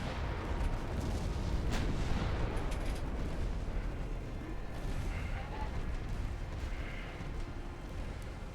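Naval guns firing in the warship game Ultimate Admiral Dreadnoughts, with dull booming reports over a constant low rumble and a faint voice talking now and then.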